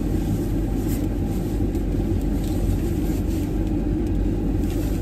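A car engine idles while preheating in freezing rain and snow, a constant low rumble with steady hiss, close and unbroken, with no speech over it.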